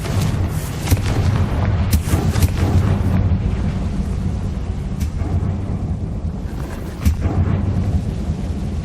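In Hogwarts Legacy, a Confringo fire-blast spell erupts into a loud, rumbling explosion with crackling bursts that sustain for several seconds.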